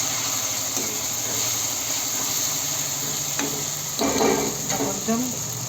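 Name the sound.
stirring salt into a frying dish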